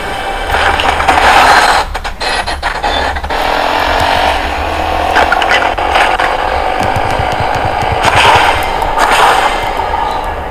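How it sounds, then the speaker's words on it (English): Sharp, cracking gunshots pop repeatedly in Fortnite Chapter 3 over a dense, steady layer of noisy game audio, with bursts clustered near the start and again toward the end. "I hear gunshots crap."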